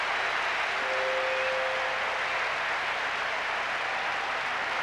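A stadium crowd at a 1997-98 Serie A football match between Inter and Piacenza applauds as a substituted player leaves, a dense, steady wash of distant clapping and cheering that holds throughout.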